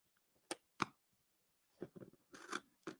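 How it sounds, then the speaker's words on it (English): Straight scissors cut through fabric for reverse appliqué quilting, giving a handful of short, crisp snips in uneven bursts, close and fairly quiet against near silence. "but I have some straight scissors"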